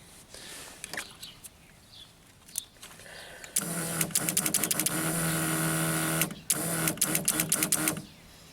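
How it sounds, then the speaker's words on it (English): A motorhome fuel pump runs as a steady buzzing whir for about three seconds, with a brief pause and a restart, after scattered faint clicks and handling noise. "So the fuel pump works."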